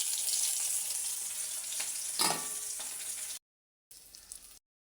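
Bay leaf, cumin, flat beans and potato sizzle and crackle loudly in hot oil in a home kitchen pan, a steady dense frying hiss that swells briefly, then cuts out and returns for a short burst before ending.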